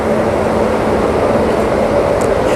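The Jan Shatabdi Express on the Raigarh–Gondia run, hauled by a Bilaspur-shed EF12K electric locomotive built at Chittaranjan Locomotive Works, gives a loud, continuous rolling rumble heard from on board, steady throughout.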